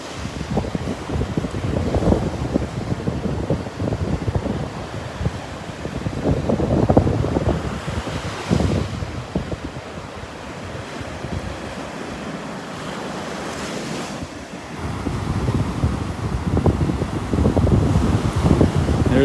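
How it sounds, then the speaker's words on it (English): Ocean waves roll in and wash up on a beach in North Naples, Florida, surging and receding in a steady rhythm with some wind. "That is beautiful, listening to those waves."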